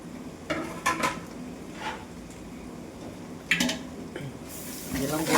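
A utensil scrapes and clinks against a pan as carrots, beans and capsicum are stirred, giving a few sharp, close knocks amid quieter rustling, with a voice speaking over it.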